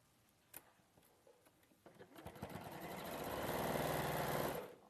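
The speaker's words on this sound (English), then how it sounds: "So I'm just going to sew these together." A sewing machine stitching quilt fabric pieces together, starting with a few clicks and short bursts before running up into a steady, fast mechanical whir that holds close and fairly loud, then stops.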